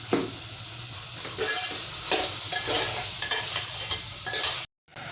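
Minced meat keema fries in a pot, a close sizzle under clattering stirs and spoon knocks against the metal, a few louder scrapes, then a sudden brief cut to silence near the end; no talk.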